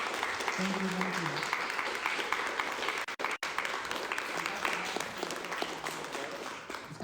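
Crowd applause at a filmmaker's talk, steady and fairly loud from start to finish, with a short break partway through and brief voices heard over the clapping.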